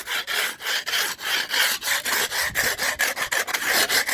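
Rapid, rhythmic rasping strokes of sanding against a concrete pool surface, close and loud, repeating steadily back and forth.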